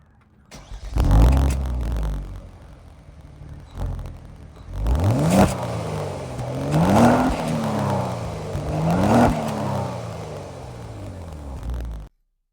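A 2022 Kia Stinger GT2 driven in comfort mode, its engine rising and settling through several smooth, moderate revs and gear changes, with quiet cabin hum between pulls and no talk.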